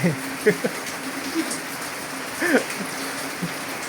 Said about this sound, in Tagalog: gabi na. Malakas pa rin ulan.